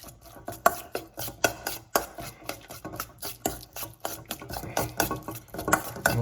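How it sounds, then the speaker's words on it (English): Steak tartare being worked together with Dijon and a small squirt of ketchup in a bowl, a steady run of wet, sticky stirring strokes, close and rhythmic, with no talking. "A tiny squirt of ketchup. I'm going to give that a good mix."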